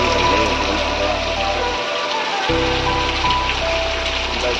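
Rain falls steadily in a rural outdoor setting near a fodder-cutting machine, a continuous loud hiss that fills the whole stretch, with a low mechanical hum underneath that cuts out briefly and returns.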